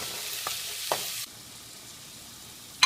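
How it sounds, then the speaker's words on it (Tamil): Tomatoes cooking in a pan for chicken liver curry give a soft sizzle with a couple of stirring taps, then the sound drops sharply to a much quieter simmer. "தக்காளி போட்டுக்கலாம் அது வந்து அஞ்சு நிமிஷம் வேகட்டும்"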